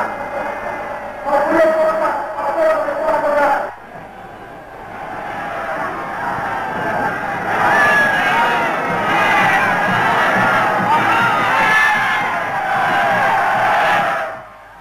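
A huge crowd of more than 100,000 people gathered in Karachi roars and cheers, a dense sustained wall of voices that dips briefly, then swells again and holds until it cuts off at the end.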